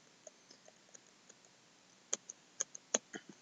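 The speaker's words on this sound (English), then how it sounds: "You can also use the arrow keys, the left and the right arrow keys" Keys on a computer keyboard click faintly and unevenly. A few sharper, louder presses land close together toward the end, and nobody speaks.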